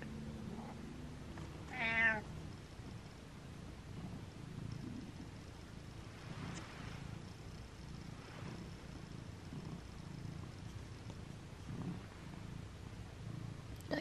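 A quiet, steady purr runs throughout, broken early by a single clear meow from a nearby cat.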